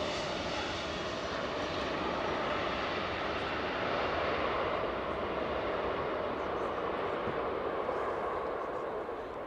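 A cargo aircraft at East Midlands Airport at night gives off a loud, sustained jet engine roar, close and broadband, holding steady with little change throughout.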